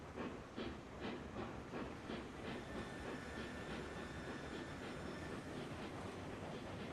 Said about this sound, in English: It's a pretty heavy freight train.